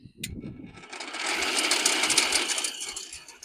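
A working circular saw switches on with a sharp click, then spins up into a loud, steady whirring whine that holds for several seconds with no talk.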